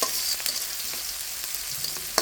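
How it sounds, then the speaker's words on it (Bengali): Chopped onion and green chili fry in hot oil in a pan while a lentil dal with ridge gourd is being made, a continuous close sizzle with faint stirring scrapes. "কাঁচামরিচ আর পেঁয়াজটা একটু ভেজে নিচ্ছি"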